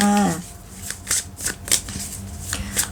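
Tarot cards being shuffled during a reading: a brief tonal sound at the start gives way to a run of crisp, irregular card flicks and riffles, close and fairly loud.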